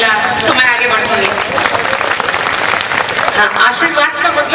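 An audience claps as a blessing for a woman reciting verses on stage. The applause is loud, dense and sustained, with crowd voices mixed into the clapping throughout.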